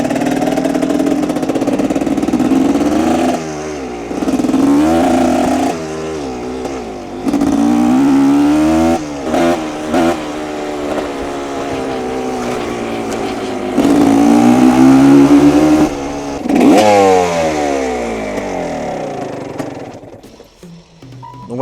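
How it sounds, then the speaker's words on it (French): Old motorcycle with a very low, uneven idle, the engine chugging and revving repeatedly in bursts with rising and falling pitch, loud and close, dying away at the end. "Le ralenti est très très bas aussi sur cette moto."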